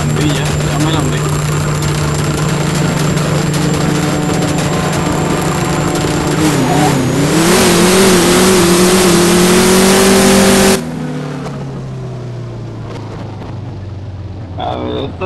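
A tuned car's engine in a video game revs hard with a rising, sustained whine that climbs and then cuts off abruptly near the end, followed by a lower idle; loud and close, with voices talking over it.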